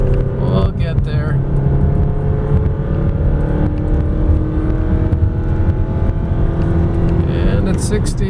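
A 2001 Toyota Camry CE engine accelerates at rising throttle, a steady droning hum whose pitch climbs gradually over several seconds, heard from inside the car.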